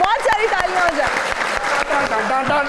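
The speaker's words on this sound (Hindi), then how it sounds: "बहुत सारी तालियां हो जाए" Audience applause at a talk show recording breaks out under a voice talking, with crowd noise and separate sharp claps mixed through.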